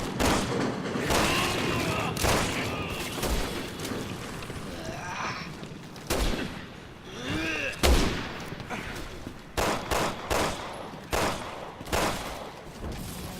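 Sniper rifle and other weapons fire in a combat section of Resident Evil 6, sharp gunshots and booms scattered irregularly across the clip, some loud and near, with game ambience between them.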